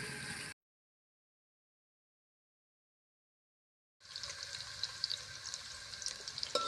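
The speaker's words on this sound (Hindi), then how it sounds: "प्याज को फ्राई करेंगे" Onions sizzle in a hot pan for a stir-fry, a short burst of frying, then a few seconds of silence before the hiss resumes close and steady.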